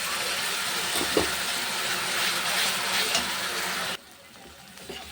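Spices and onions fry in a wok with a loud, close hiss and crackle and a few light stirring knocks. The sizzle drops abruptly to a much quieter simmer near the end.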